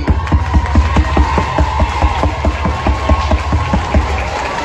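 A crowd at a political rally applauds women standing for the public, with steady, dense clapping over a low rumble.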